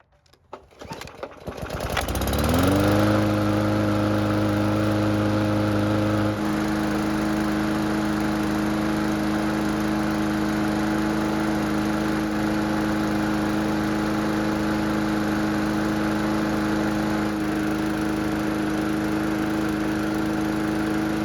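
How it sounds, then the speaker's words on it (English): A small lawn mower engine with a freshly repaired carburetor cranks with a few sputters, catches and then runs at a steady, loud, even drone close by for the rest of the time, with no talk. "So the good news is that the engine starts and runs great"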